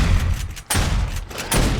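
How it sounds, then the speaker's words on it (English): Zombies bursting apart in 7 Days to Die during a horde night, delivering a quick run of heavy, crunching blasts close together that fill out roughly two seconds of game audio. "They're just puking and exploding."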